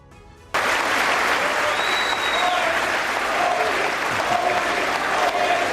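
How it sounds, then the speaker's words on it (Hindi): Members of the US Congress give Prime Minister Modi a standing ovation, loud sustained applause filling a large chamber steadily from start to finish. "अमेरिकी कांग्रेस ने पीएम मोदी के स्वागत में खड़े होकर जोरदार तालियां बजाई।"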